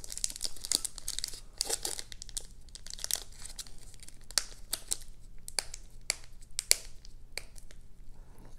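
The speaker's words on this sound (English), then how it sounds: "Gosh, this tape is really sticking." Sticky tape being peeled off a basketball card, heard as a run of close, sharp crackling and crinkling bursts with short pauses between them. No voices are present.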